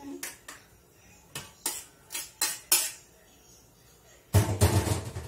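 A metal pot on the stove gets handled while cooking canjica (hominy): a run of sharp clinks and taps, then a louder, denser burst of clattering and scraping near the end, with no talking.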